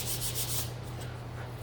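Sandpaper rubbing briskly over a small painted wooden sunflower gnome, a close, steady scratchy hiss in a few quick strokes.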